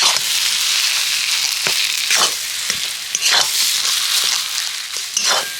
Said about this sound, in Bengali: এবার শুধু আমি নেড়ে চেড়ে এটাকে ভালো করে কষিয়ে নেব